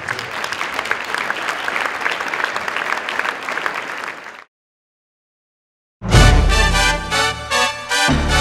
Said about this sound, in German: Und ein Applaus für unsere drei Geehrten.